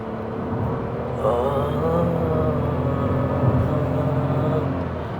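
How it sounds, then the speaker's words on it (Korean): A Chevrolet Spark, a light car weighing under one ton, accelerates with the pedal pressed. A steady, close engine drone with humming tonal layers strengthens slightly after a second and holds. No one speaks. "가속 페달의 힘을 한번 쭉 줘보면"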